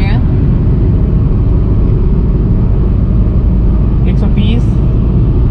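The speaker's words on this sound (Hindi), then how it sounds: "फोर्थ फिफ्थ डाल देते हैं तो 120 किलोमीटर प्रति घंटे की रफ्तार पे हम आ चुके हैं" A Volkswagen Polo cruising at 120 km/h in fifth gear, a car with black-smoke and low-pickup trouble, fills the cabin with a loud, steady engine and road drone while someone talks over it.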